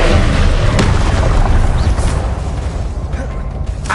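Confringo explosion spells go off in Hogwarts Legacy, giving a loud booming blast up front that trails into a rumbling, crackling decay.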